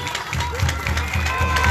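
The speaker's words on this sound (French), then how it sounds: "j'aimerais qu'on applaudisse le maire Youmsi pour l'organisation de ce meeting" A rally crowd applauds a mayor at a party anniversary celebration, a dense, steady wash of clapping mixed with crowd noise and voices, fairly close and continuous throughout.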